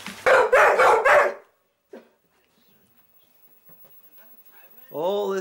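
A dog barks in a quick burst of three or four loud barks, then quiet with faint rustling, and a person starts talking at the end.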